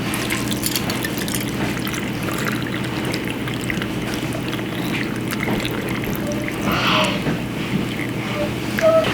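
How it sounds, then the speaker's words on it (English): Hot brine poured into a jar over pickled eggs made with apple cider vinegar, a moderate liquid pour with drips and splashes over a low background hum, growing slightly louder near the end. "now I'm gonna pour the hot brine over everything."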